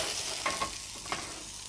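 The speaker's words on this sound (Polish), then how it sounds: "dlatego tak bardzo delikatnie smażyliśmy te wątróbki, na pewno nie będą suche" Chicken livers frying gently in a pan, a steady soft sizzle with a few brief stirring scrapes and clicks, heard close up with no talking.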